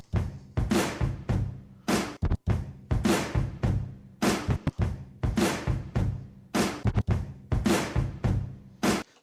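A punchy drum break plays alone, with hard, evenly spaced kick and snare hits and crashing cymbals in a driving rock rhythm.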